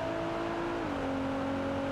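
A Nissan GT-R in BeamNG accelerates with a steady, droning engine tone that shifts down slightly partway through, close and continuous under constant broadband noise.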